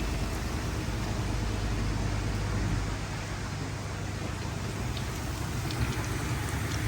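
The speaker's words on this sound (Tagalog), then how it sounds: "Washing machine yan." A washing machine runs with a steady, even rushing noise and low rumble throughout, unbroken and moderately loud.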